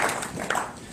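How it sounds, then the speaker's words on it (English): An audience at a chamber of commerce session in Mooresville, Indiana applauds its platinum and gold sponsors with a brief burst of scattered, moderately loud clapping. "Let's give these platinum and gold sponsors a round of applause for their support."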